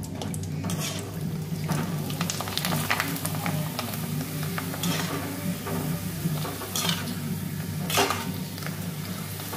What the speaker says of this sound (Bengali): কিছু পাঁপড় ভেজে নেব।